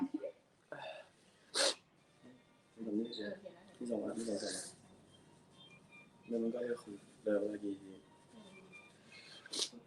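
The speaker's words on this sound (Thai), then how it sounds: "ขอจามทีหนึ่งนะจ๊ะ" Someone sneezes a couple of times with sharp, quick bursts between stretches of casual talk, fairly quiet and close.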